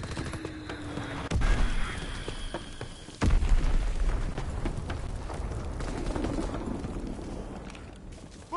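Fritz X guided bomb exploding in a PS4 war video game: two heavy, close booms land a couple of seconds apart over a steady bed of rumbling battle noise and scattered gunfire-like cracks, with no one talking.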